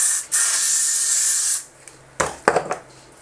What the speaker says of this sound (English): putting on this spray like all over my hairline is making me nervous